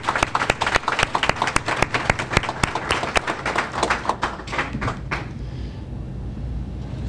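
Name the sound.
applause for graduates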